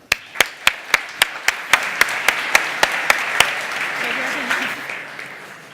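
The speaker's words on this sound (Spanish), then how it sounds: "Un aplauso." A conference audience at a JavaScript developer event claps: a dense wash of applause with a single person's sharp, steady, rhythmic claps standing out on top, then it gradually fades.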